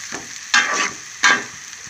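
Cashews and garlic fry in a hot pan for mutton keema fry, with soft sizzling and two sharp stirring scrapes breaking into the steady crackle, close and fairly loud.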